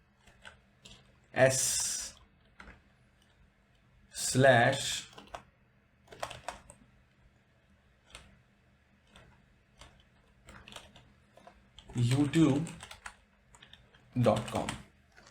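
Computer keyboard keys clatter in several short bursts of quick typing, close to the microphone, with faint isolated key taps between the bursts and no voice heard.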